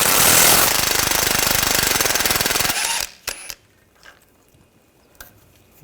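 A power tool fitted with a 10mm socket rattles loudly and rapidly as it spins out sway bar bracket bolts on a 2015-2020 Cadillac Escalade, then stops abruptly and leaves a few faint clicks and clanks.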